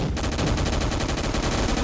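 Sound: gunfire in Roblox gunfight video game

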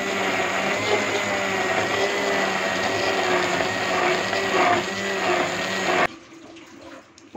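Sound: blender running

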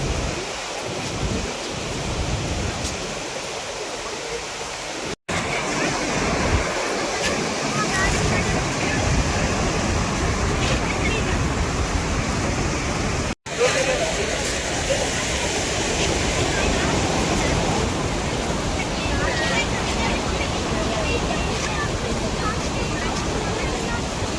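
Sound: water at Harangi reservoir dam on the Kaveri river, Kodagu

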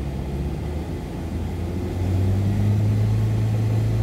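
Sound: Nissan Altima engine revving

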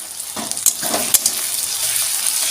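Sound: ginger garlic paste frying and stirred for tarka dal

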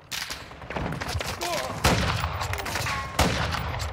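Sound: gunfire in video game Call of Duty Modern Warfare 2

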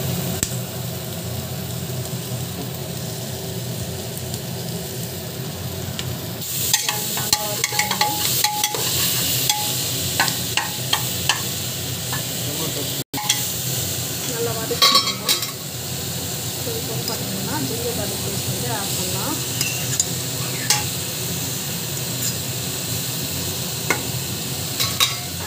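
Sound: vegetables being sautéed and stirred in a pan

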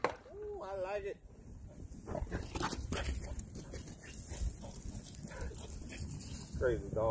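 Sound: dog barking

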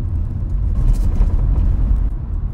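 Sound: noise from trunk of Volkswagen car

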